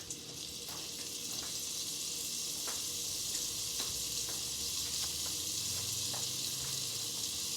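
Butter sizzles steadily in a pan as the fat for a gumbo roux, a continuous close frying hiss with faint scattered pops and no talking.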